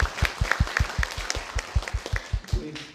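Rhythmic group clapping at a Korean National Assembly member's year-end constituency report meeting, steady and fairly close, tapering near the end with faint voices underneath.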